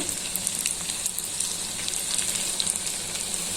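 Potato and onion bajji frying in hot oil, a steady close sizzle and crackle with no talking.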